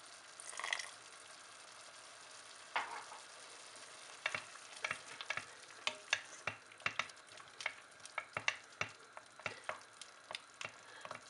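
Lamb liver simmering in a pan with coriander and vinegar, Moroccan style, giving a soft close bubbling with scattered wet pops and spits that grow quicker toward the end, faint and alone without voices.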